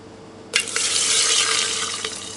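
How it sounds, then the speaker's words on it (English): A sample tube dropped into liquid nitrogen for tumour tissue freezing sets off a sudden loud fizzle and hiss that holds steady for about two seconds, then slowly fades, with no voices. "drop the tube inside the liquid nitrogen, where we hear this nice fizzle"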